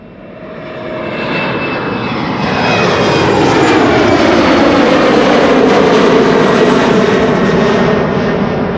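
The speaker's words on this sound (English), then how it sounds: "this is KLM flight 1233 going to Göteborg. Embraer 190." A KLM Embraer 190 jet departs on Schiphol's Polderbaan, its engine roar swelling from a distant rush to a loud, sustained close pass with no talk.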